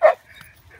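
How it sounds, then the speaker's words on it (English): A single sharp bark from a well-trained female dog rings out near and loud at the start, followed by soft low murmurs and faint rustling. "You got a well-trained dog there."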